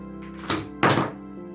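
A glass jar is set down on a table for a flower craft, giving two short dull thunks in quick succession, close and fairly loud, with no talk.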